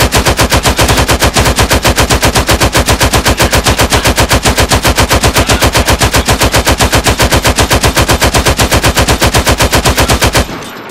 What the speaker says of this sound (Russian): Я могу, конечно, очередь туда. Чисто по фану по нему долбануть.